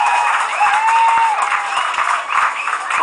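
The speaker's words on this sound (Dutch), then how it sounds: "Geef ze maar alvast een applaus." Applause from a live studio audience at a music talk show, moderately loud with scattered claps and some tonal whoops or whistles woven through the dense clapping.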